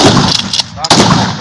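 Loud rifle fire at a firing range: a dense, booming blast that rolls and echoes for most of the moment, then a sharp crack cuts in partway through.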